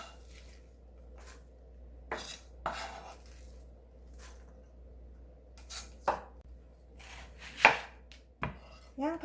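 Onion being cut with a knife on a board for cucumber kimchi, with about a dozen crisp, irregular chops separated by quiet gaps and no voices.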